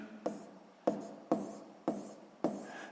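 Handwritten numbers scratch onto paper up close in five short, evenly spaced strokes, each starting with a sharp pen contact and fading quickly.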